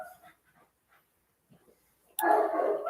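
A dog on a porch in Sunnyslope sounds faintly through quiet moments, then a sudden loud, harsh, sustained bark-like burst cuts in near the end and keeps going close to the microphone.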